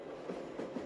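A train passing in the Train Simulator Bangladesh game on the Suborno Express route from Chattogram to Sitakund, a brief, steady rumble with faint rhythmic rail clatter.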